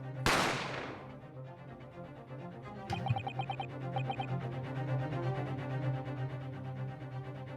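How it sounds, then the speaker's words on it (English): A single sharp gunshot cracks out in the game The Great Ace Attorney, followed moments later by a metallic clatter and a sustained droning game soundtrack with rhythmic ticking. "You heard the gunshot, you mean?"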